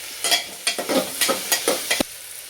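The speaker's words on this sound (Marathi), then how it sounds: "पूर्ण आपल्याला आता मिक्स करून द्यायचं आहे परत" A spoon stirs and scrapes masala rice with chili powder in a pan: about seven quick, close scraping strokes in an uneven rhythm, with no talking.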